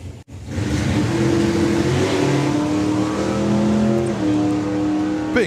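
Drag racing car at a national finals event launching and charging down the strip, a loud sustained engine roar climbing through its revs and running steady for several seconds.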